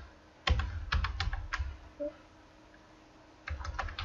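Code being typed on a computer keyboard: bursts of close, crisp keystrokes in three short clusters, with a quiet pause between them.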